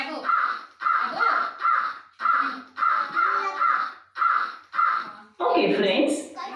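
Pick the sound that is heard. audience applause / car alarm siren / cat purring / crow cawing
crow cawing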